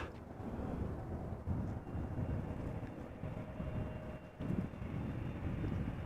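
A passenger jet departing Amsterdam Schiphol Airport roars steadily at a distance, a broad low rumble with some wind buffeting and no voices.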